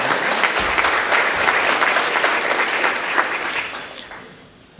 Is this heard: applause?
yes